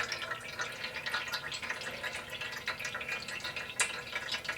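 Whey trickles and drips out of a ball of homemade ricotta as it is squeezed by hand. The patter is faint and irregular and close by, with one slightly louder drop near the end.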